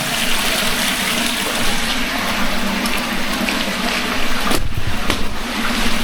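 Water pours from a natural spring in a steady, loud, rushing gush that does not let up. It sounds close, with no voices over it.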